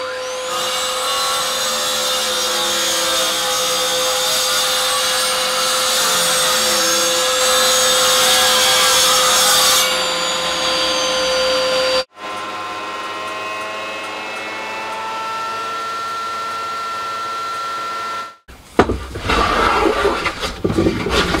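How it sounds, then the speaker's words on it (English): A mitre saw cutting an oak batten in a small shed whines loudly and continuously, then cuts out with a sharp break. A lower running drone follows before the motor stops and spins down with clattering. "So I'll chop that off in the mitre saw."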